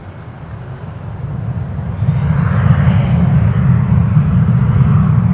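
A small Cessna Citation business jet lines up at Toronto Pearson Airport, a loud, steady engine roar with a low rumble that swells gradually.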